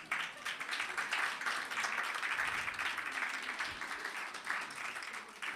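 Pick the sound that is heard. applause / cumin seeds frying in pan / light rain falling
applause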